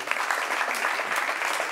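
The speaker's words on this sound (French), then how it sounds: "On l'applaudit pendant qu'il arrive." An audience breaks into steady applause as a volunteer walks up to join the presenter, a dense, even patter of many hands lasting under two seconds with no voices over it.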